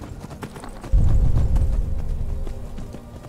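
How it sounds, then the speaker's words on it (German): Horse hooves clip-clop steadily while riding in the game Skyrim, a loud rhythmic run of hoofbeats that starts abruptly and continues without talk. "Pferdchen. Weg mit uns. Einfach weiter reiten,"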